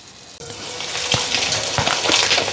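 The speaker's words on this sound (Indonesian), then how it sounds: "Saya goreng seperti ini, jadi ini tepung terus saya goreng." Flour-coated fish fries in hot oil, a loud, steady close-up sizzle and crackle with occasional bursts of spattering, and no talking.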